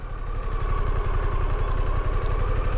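A Harley-Davidson Pan America 1250 motorcycle idles in neutral, its engine giving a steady, close, even low throb with a faint mechanical clatter on top, running alone with no talk.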